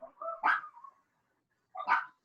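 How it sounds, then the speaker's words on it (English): A dog gives two short barks about a second and a half apart, fairly close and moderately loud, with whimpery tones in the first and silence between. "The dog."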